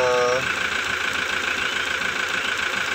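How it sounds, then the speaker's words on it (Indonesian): Toyota Hilux with a 3.0 litre turbo diesel engine idling up close, a steady rough rumble throughout, with a brief voice-like sound at the very start. "terakhir pakai mesin 3000 cc turbo diesel"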